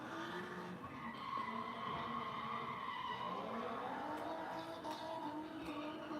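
Drifting car at Sonoma raceway, tires skidding and squealing in a continuous, wavering screech over engine roar, loud and steady throughout without talk.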